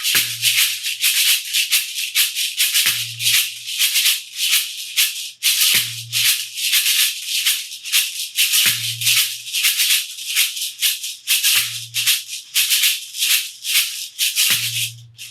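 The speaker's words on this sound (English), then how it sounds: "you got your shakeré part." A shekere shaken in a steady, driving rhythm, bright rattling beads with a low thump every few seconds, played alone and close.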